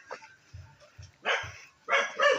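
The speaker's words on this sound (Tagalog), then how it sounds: "huwag kang lumapit, may aso." A dog barks a few times in short, low bursts, with other background sounds around it, fairly close by.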